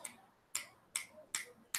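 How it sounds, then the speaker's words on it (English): Five crisp finger snaps, close and evenly spaced about every 0.4 seconds, standing alone against a quiet background. "I wish I could snap my fingers."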